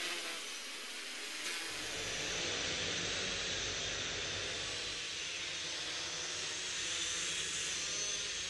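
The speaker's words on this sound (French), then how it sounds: "on voit un couple de drones qui manipulent des cordes pour fabriquer" A pair of quadcopter drones hover and fly while handling ropes to build a bridge, a steady, broad whirring drone of rotors that swells and holds at moderate, fairly distant loudness, with no speech.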